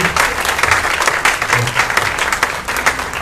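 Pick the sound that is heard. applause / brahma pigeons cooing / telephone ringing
applause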